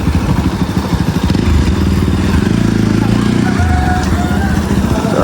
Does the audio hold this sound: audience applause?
no